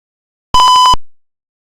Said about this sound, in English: after moving this, there is a buzzer sound